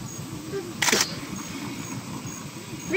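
A single short camera shutter click for a caveman selfie in Ark, a brief bright snap over quiet game ambience.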